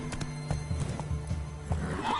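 A horse neighs and whinnies in a video game, a short loud call with clopping hooves around it at close range.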